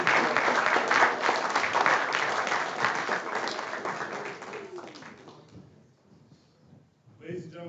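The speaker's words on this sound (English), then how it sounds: "Let's give him one more round of applause." An audience at an awards ceremony applauds loudly and steadily for about five seconds, then the clapping thins and fades, and a voice begins speaking near the end.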